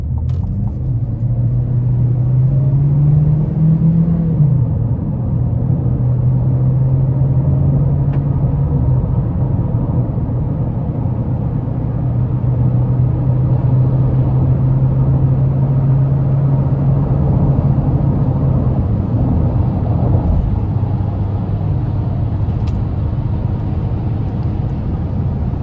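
A 2027 GMC Terrain AT4 AWD accelerates hard up an interstate on-ramp, its engine droning steadily with a rising then held tone over a loud, constant road and wind rumble from inside the cabin.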